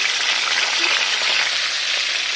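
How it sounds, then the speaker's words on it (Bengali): Salted fish fries in hot oil, making a dense, even hiss that holds steady and close for the whole short stretch, with no voices. "এই নুন মাছগুলো ভেজে নিচ্ছি"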